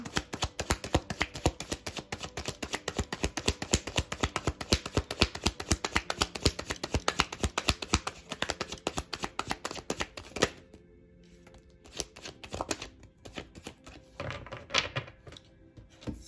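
Tarot cards are shuffled in a fast, rhythmic riffle of crisp flicks, then the pace slows into scattered, sparser card sounds near the end.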